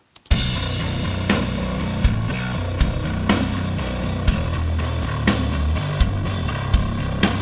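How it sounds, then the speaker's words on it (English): A dense metal mix pounds along at full volume, distorted drum kit hits punching through a wall of reamped, heavily saturated guitar in a steady driving rhythm with no break. "and then you have the distorted drum kit"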